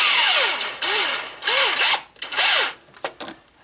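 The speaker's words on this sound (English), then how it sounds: "I'm just using a socket in my cordless drill on low speed" A cordless drill with a socket, on low speed, tightens a hose clamp in three short whirring bursts, its pitch dipping and rising as it bites, with brief pauses and a faint rattle at the end.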